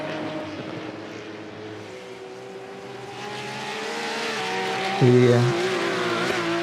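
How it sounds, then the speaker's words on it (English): Porsche 911 Cup race cars roar past during a race, a steady engine drone that swells louder toward the end, with a commentator talking over it. "Cup class with all the Porsches. The 911 Cup cars."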